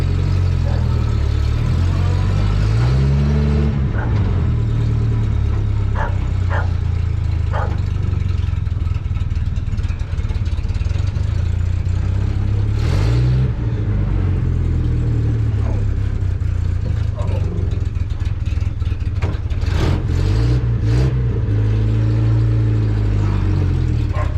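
A Ford Model TT engine running loud and close while the truck drives in reverse, a steady rough mechanical drone with a few rising and falling revs, plus brief clicks and knocks.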